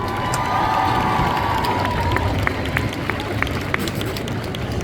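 Crowd at a cosplay contest show applauding and cheering loudly, a dense steady wash of clapping and shouts with scattered sharp claps and a faint whistle early on.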